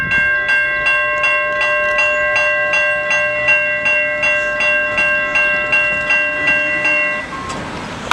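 A Norfolk Southern auto rack train rolls through the Vinewood Ave railroad crossing in Wyandotte, Michigan, its wheels clicking in a steady repeating clack while a crossing bell rings continuously, then the bell stops and the rail noise fades near the end.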